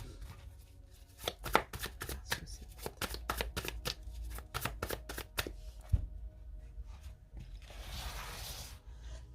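Lightseer Tarot cards are shuffled with a rapid run of crisp riffling snaps, then a card is set down and slid across a surface in a soft rub, close and without talking.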